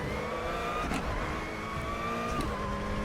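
A front-wheel-drive WTCC 2014 touring car in the RaceRoom racing game strains on the Macau street circuit. Its engine holds a steady, loud, buzzing drone with gently rising and falling pitch.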